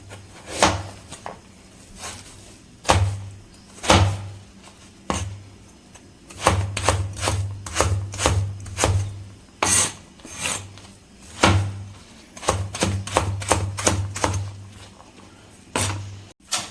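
A kitchen knife cuts repeatedly against a wooden board while preparing a pasta dish, giving crisp, irregular chops and rasping strokes, close and clear with no talking.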